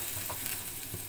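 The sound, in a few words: food with pepper and olive oil sizzling in pan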